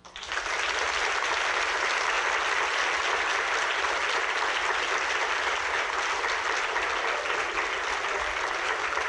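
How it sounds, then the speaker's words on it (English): A large audience gives a sustained round of applause after a talk on green solutions, starting abruptly and holding a loud, dense, even clapping wash for the full length. "Big round of applause to Jeff Corwin"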